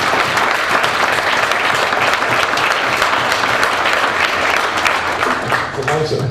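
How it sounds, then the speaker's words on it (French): Audience applause at a public meeting with Gilles Duceppe, a dense, loud, sustained clapping that fills the room without pause for several seconds. "oui, on peut vous applaudir."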